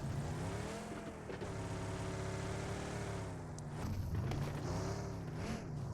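A car engine in a video game, revving loud and steady with rising and falling pitch sweeps as the vehicle accelerates and turns, no voices over it.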